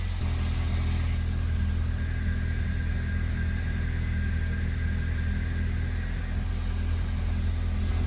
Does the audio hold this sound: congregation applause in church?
no